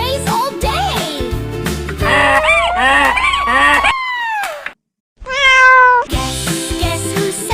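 A voice imitates a cat in a children's farm-animal song, giving a few drawn-out meows with rising and falling pitch, set against a bright, busy musical backing, with a brief silent gap.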